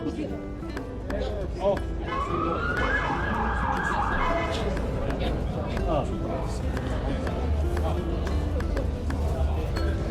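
A wailing police siren rises over a busy street din of traffic and crowd noise in Scotland, with voices talking throughout.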